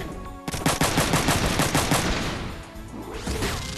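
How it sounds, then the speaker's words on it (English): Rapid mech weapon fire in the video game Front Mission 3: a loud burst of fast, evenly spaced shots lasting about a second and a half, then a short lull before a second, quieter flurry. "And shoot at this guy."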